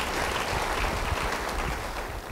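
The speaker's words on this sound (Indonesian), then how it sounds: "Beri tepuk tangan bagi dia." A church congregation claps steadily and densely for about two seconds in a sermon setting, with no one talking over it.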